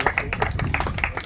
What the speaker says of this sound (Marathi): एकदा टाळ्या वाजून पहिला विद्यार्थी आहे